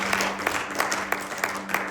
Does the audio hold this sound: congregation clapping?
yes